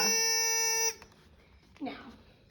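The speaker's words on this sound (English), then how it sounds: "the buzzer will ring" A buzzer in a battery-powered switch circuit sounds one steady, loud, high-pitched tone for almost a second, then cuts off and is followed by faint room noise and a brief voice.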